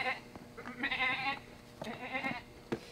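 A person mimics a mountain goat, voicing two wavering, bleat-like calls close by outdoors near a pond and stone wall, with brief talk and a sharp knock between them.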